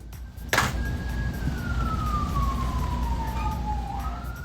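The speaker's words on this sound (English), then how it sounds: "there's the sound of somebody having a worse day" An emergency vehicle siren sweeps past, a steady wail that slides slowly downward in pitch as it moves by, over constant road and engine rumble, with a sharp clunk near the start.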